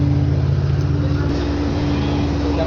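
A gasoline generator with two exhaust pipes runs at a steady idle, its constant low engine hum and drone loud and close, with a voice speaking over it.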